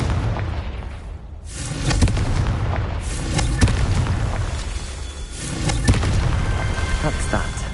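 Confringo fire spells explode in Hogwarts Legacy on PS5, sounding as repeated booming blasts and crackling bursts over a dense, noisy game soundscape.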